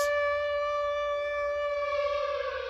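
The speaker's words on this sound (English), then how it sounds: "the scariest sound that we all recognise as horror gaming fans as the siren from Silent Hill" The Silent Hill video game siren wails as a sustained, ominous civil-defense-style tone, loud and steady with rich harmonics, slowly drifting in pitch with no voices over it.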